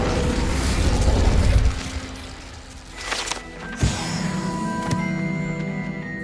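A fire spell is cast in Hogwarts Legacy on Xbox Series X, giving a muffled whoosh, then a sudden bright burst and crackle, followed by lingering tonal magical shimmer.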